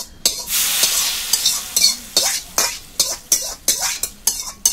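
Sizzling and frying in a hot karai as chutney is poured in and tempered, with a loud burst of hiss at first, then repeated stirring scrapes and sizzles in a steady rhythm, close by with no talk.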